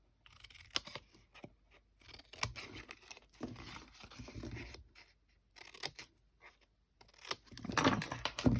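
Card being trimmed with scissors while making a faux book gift box, giving a run of close, uneven snips and crinkly paper rustles with short pauses, louder toward the end, with no talking.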